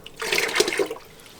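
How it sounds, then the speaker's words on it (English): Water poured from a care basin into a toilet bowl, a short splashing gush of about a second that trails off, close and with no talk. "Come here, pour away from you. Don't touch the toilet with the basin."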